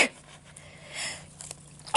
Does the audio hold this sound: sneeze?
yes